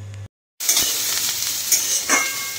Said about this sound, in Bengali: এখানে আলু পেঁয়াজ ভাজা চলছে